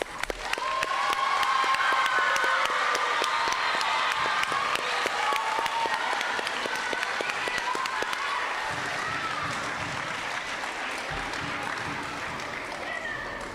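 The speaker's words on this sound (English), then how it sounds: "Let's give these two a big round of applause." An audience at a school awards ceremony for fourth to sixth graders gives award recipients sustained, dense applause, steady and fairly loud for over thirteen seconds with a few cheers mixed in.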